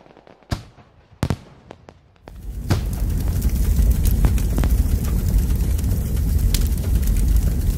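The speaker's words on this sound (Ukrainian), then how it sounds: "Спеціальний заряд летить у повітря з характерним шумом, ніби лопоче металевими крилами, вибухає в зеніті" An incendiary charge is fired into the air over a wheat field. A few sharp, separate cracks ring out first, then a loud, continuous crackling roar takes over and is punctuated by further bangs.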